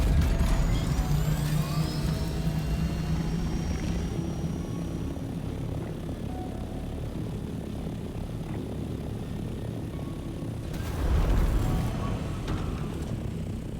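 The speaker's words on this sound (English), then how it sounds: "I'm going to get my copter now." A video game helicopter flies with a steady, moderately loud rotor and engine drone that rises briefly near the end, and no one speaks.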